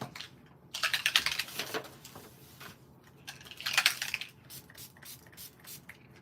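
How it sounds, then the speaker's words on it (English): A spray bottle spritzes onto a handmade flower card in several short hissing bursts, clustered near the start and again midway, close and fairly quiet, with light handling rustles between. "let me spritz this one"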